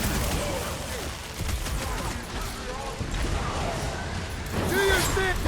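Rapid bursts of weapon fire from combat in the Guardians of the Galaxy video game, crackling over a busy bed of battle noise, with brief metallic and effect sounds near the end and voices shouting across it.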